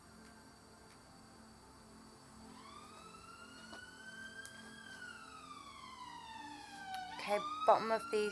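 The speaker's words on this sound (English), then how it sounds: "sorry for the sirens guys, it's a bit crazy around here tonight" Emergency vehicle siren wailing outdoors at night, faint and distant, rising and falling in long sweeps as it approaches, with a person speaking softly indoors and some handling noise near the end.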